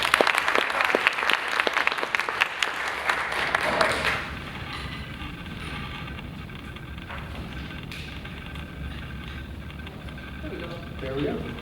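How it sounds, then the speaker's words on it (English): Crowd applause at a convention safety demonstration rings out for about four seconds, then drops away to a low rumbling room background with faint noises. "how about a hand of applause for SpikeCon for putting this together"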